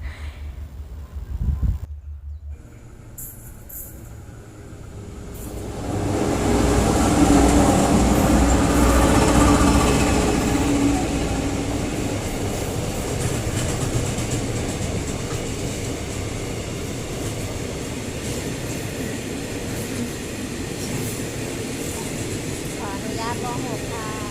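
A long freight train leaving a station rumbles past steadily, building to a loud roar after a brief clunk and then settling into a continuous rolling clatter of wagons.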